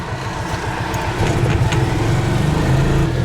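A tuk-tuk's small engine pulls away in first gear, a steady throaty drone that rises slightly in pitch and loudness as it gets moving, heard up close with no talking.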